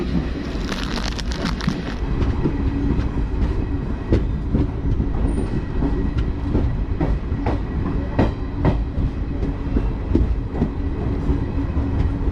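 Shaktipunj Express passenger train running on rails, a steady loud rumble with repeated clickety-clack wheel beats throughout, no voices.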